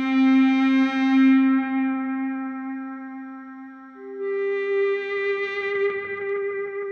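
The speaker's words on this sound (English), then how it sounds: "If you add a Frippertronics style delay after this, you can get into some gorgeous ambient sounds." Sustained electric guitar notes with a soft attack, played through an ambient delay pedal, washed in long delay and echo, one held tone giving way to another.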